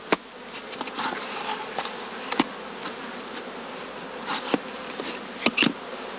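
Honeybees in a box at Klindwort's bee farm buzz in a dense, close drone, with individual bees flaring louder as they pass near, and no voices.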